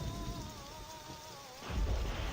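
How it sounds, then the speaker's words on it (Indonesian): A thunderstorm with steady rain falling, then a deep low rumble of thunder swelling near the end as the downpour continues. "terdengar geledek keras disusul hujan semakin deras"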